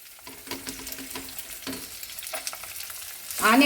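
Onion and curry leaves frying in hot oil, a steady close sizzle with stirring scrapes, swelling into a louder burst of crackling near the end.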